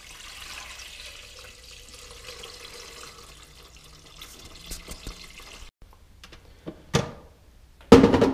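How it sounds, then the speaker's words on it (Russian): Purified water is poured from a container into a multicooker bowl while making cranberry juice, a steady close splashing stream followed by a few knocks and clatters as the pouring ends and the bowl is handled. "заливаем сюда 4 литра очищенной воды."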